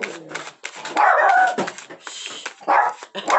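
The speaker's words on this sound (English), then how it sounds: "Sorry about my dogs." Dogs barking indoors, several close yips and barks with whimpering mixed in, loud and uneven in rhythm, with no one speaking.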